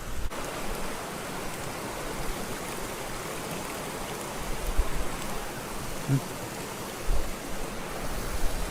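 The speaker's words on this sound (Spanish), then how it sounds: "Está lloviendo un poquito" Light rain falling in a forest beside a river, a steady soft hiss of drops and flowing water with a few faint thumps, no clear talking.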